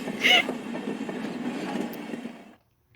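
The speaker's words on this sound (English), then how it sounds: "Yeah, the freaking loud train, god." A loud train in the video game Higurashi When They Cry rumbles steadily for about two and a half seconds, then cuts off into silence.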